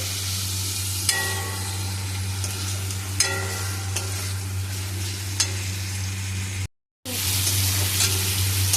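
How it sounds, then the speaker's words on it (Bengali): Tomatoes going into a pan of chicken curry with potatoes, sizzling steadily and close up, with a few sharp scraping stirs along the way and a brief drop out near the end. "এরপরে আমি দিয়ে দিচ্ছি টমেটো।"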